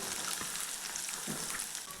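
Finely chopped large onion fries in hot oil for a Tamil fenugreek gravy, giving a steady, close sizzle with faint stirring, with no voices.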